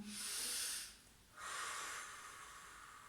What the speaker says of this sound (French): On inspire et on expire profondément.